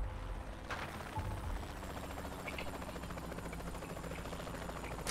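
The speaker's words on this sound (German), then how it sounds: "Achso, das ist von denen Helikopter." In the video game Saints Row The Third, a helicopter's faint, steady rotor thrum sits low under a busy game soundscape for several seconds, with some distant gunfire-like crackle mixed in.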